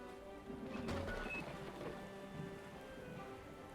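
A rainstorm with thunder in the mining game Drill Deal Borehole Alpha: steady rain hiss runs throughout, with a low rumble swelling near the start, all at a fairly quiet, even level.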